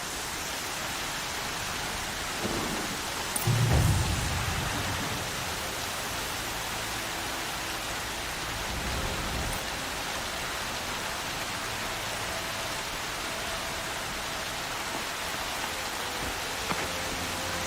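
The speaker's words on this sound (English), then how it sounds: "Storm's been in the air for a while." A steady, dense hiss of rain falls throughout a thunderstorm in the video game Horizon Zero Dawn, broken by a brief low rumble near the start. No voices are heard.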